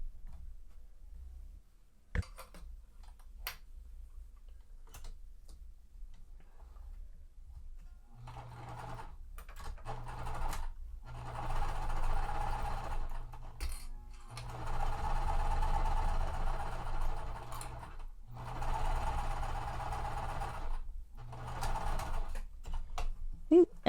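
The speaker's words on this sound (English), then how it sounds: "So now when I sew this seam, I'm going to sew it from the front." A sewing machine stitches a quilt block seam for a Wild West puzzle mystery quilt, running in steady bursts with short pauses between them, close and moderately loud, with a little speech at times.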